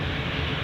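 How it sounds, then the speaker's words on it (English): Heavy jet airliner departing Zurich airport, heard as a brief, steady, distant broadband engine roar with a low rumble and no voices. "So that was the first heavy departure in the opposite direction"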